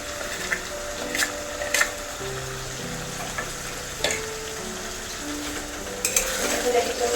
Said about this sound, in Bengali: ভালো করে কষিয়ে নেব যতক্ষণ না তেল না ছাড়ে